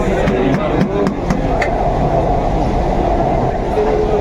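A Kolkata underwater metro train runs through the tunnel beneath the Hooghly river on the Howrah to Esplanade line, with a loud, continuous rumbling roar and a few sharp rattles heard from inside the carriage.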